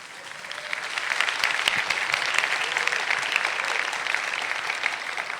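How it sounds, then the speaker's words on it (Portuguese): An audience at a Brazilian talk breaks into applause, steady clapping building after a second and sustained to the end, filling the room with no voices heard. "Bom, pode aplaudir."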